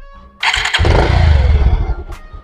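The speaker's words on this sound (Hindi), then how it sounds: "देख सकते हो इंजन स्टार्ट हो चुका है" A Bajaj Pulsar 150 motorcycle engine cranks and catches, then settles into a steady, close, loud idle with a sharp blip near the end.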